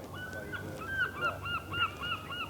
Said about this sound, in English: Seagulls, having a great time.